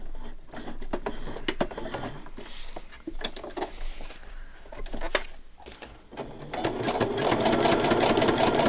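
Sewing machine stitching through paper while making a December Daily album with a Cinch machine, its rapid mechanical whirring running in bursts that stop and restart, growing steadier and louder near the end.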